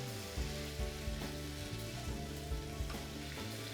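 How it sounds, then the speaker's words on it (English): Tomato sautéing with a pinch of salt in a wok: a steady, close sizzle and frying hiss throughout, with soft stirring scrapes at regular intervals and no talk. "Add in a pinch of salt. And we're going to just saute briefly."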